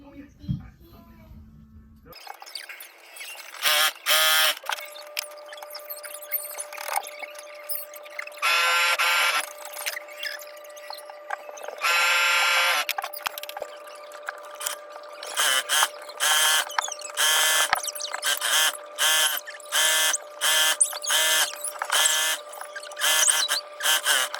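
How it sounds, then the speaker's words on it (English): A sewing machine stitching fabric pieces together for a scrap dress, running in repeated short bursts of fast mechanical whirring, loud and close, with a steady faint hum between runs. "I'm stitching the big pieces together."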